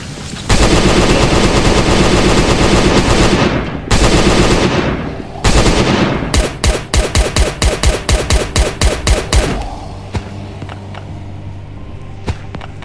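A SCAR rifle fires in a video game: loud, sustained automatic bursts give way to a rapid string of single shots, then quieter background game sound.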